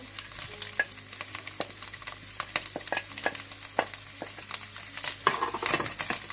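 Fried keema with onion and black pepper being stirred in a pan, with a steady soft sizzle and frequent light scrapes and clicks of the spoon against the metal.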